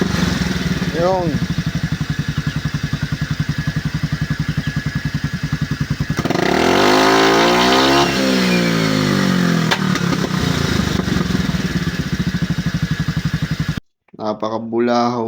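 A carbureted Suzuki Skydrive 135 motorcycle engine, a 2013 model, runs loud and close with a steady rough idle, then revs up and falls back in a long swell, ending in a brief gap and a final burst.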